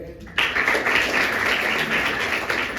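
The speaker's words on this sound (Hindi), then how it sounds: "तालियों में आप कंजूसी ना करें।" An audience claps at a poetry recital in Rajim, Chhattisgarh: applause bursts in suddenly after a quiet moment and carries on as a dense, even patter of many hands.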